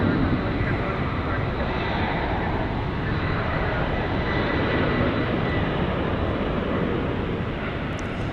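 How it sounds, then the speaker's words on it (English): An Airbus A300 taking off at Dallas Fort Worth International Airport, a loud continuous broadband engine roar that holds steady across the whole span, close and dominant. "taking off, Airbus A300."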